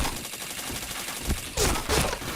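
Video game gunfire rattles in quick automatic bursts, a few sharp volleys close together over a steady background of game noise, with no speech.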